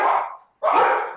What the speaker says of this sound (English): That's my dogs.